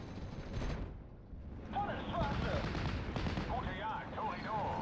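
Pak 43 anti-tank guns in a Steel Division: Normandy 44 battle, distant shots and battle rumble sitting low and faint beneath a man's ongoing speech.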